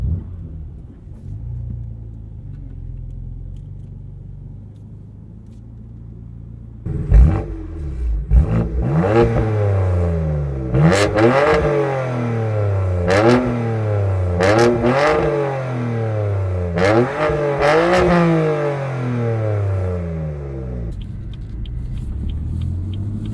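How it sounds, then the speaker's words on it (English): A 2016 BMW F80 M3 sedan on the road: a low idle rumble gives way to hard, repeated revving as the car accelerates through several gear changes, the engine note rising and falling loudly before settling back. "let's go ahead and take the F80 M3 on the road and see how it drives"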